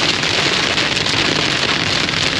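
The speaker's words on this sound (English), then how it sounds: "Going through some big rain cell." Heavy rain from a big storm cell pounding a car driving along a rural road in northeastern Washington, a loud, continuous roar of drops drumming on the body and windshield.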